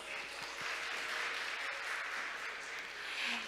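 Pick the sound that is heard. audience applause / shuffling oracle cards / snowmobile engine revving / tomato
audience applause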